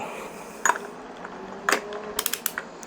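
Tool work on the primary of a 1973 Harley Sportster: a few sharp metallic clicks and ratchet-like ticks, two isolated at first, then a quick cluster, close and fairly quiet.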